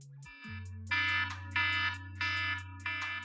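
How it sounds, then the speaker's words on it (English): The default iPhone alarm tone plays alone, a bright repeating electronic chime in rhythmic pulses over a steady low drone, loud and close. "it's the default alarm sound on an iPhone"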